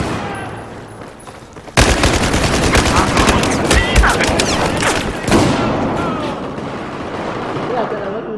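Rifle gunfire in a Battlefield 4 match erupts suddenly into a dense, rapid stream of loud shots and impacts, close and sustained for several seconds before thinning out, with someone talking at times.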